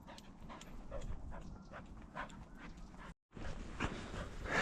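A lively dog on a solo wild camping trip pants steadily and lets out small whimpers close by, with light outdoor rustling and a brief dropout partway through.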